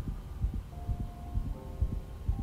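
Heartbeat sound effect from a Daredevil episode: fast, steady low thumps in a regular rhythm over a faint hum, with no talking.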